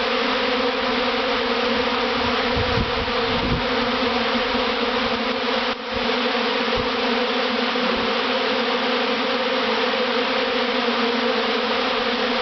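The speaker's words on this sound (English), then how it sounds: "Noise, the roar of the bees." A large swarm of bees roars in a dense, steady buzz that fills the air close around, with a few brief bumps and thumps breaking through the constant hum.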